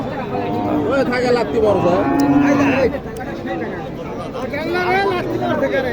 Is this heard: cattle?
yes